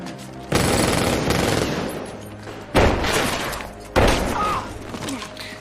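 Gunfire in a bank robbery film shootout comes in three loud bursts of rapid automatic shots, each echoing and fading between bursts.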